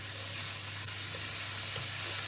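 Garlic sizzling in a frying pan for chilli con carne, a steady close hiss with faint pops and spits throughout.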